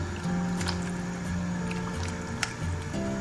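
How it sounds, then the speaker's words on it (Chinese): Pork intestines dropped into water in a wok with oil, scallions and ginger give a soft squishing, wet splash over a steady sizzling simmer, close and continuous. "下入大肠，"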